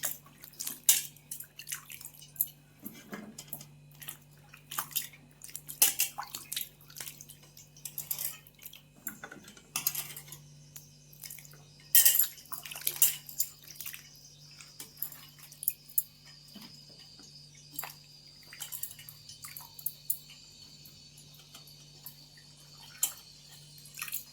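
Bitter gourds are washed by hand in a vessel of water to remove soil and sand, producing close splashing, dripping and sloshing with occasional clinks of a metal pot in irregular bursts.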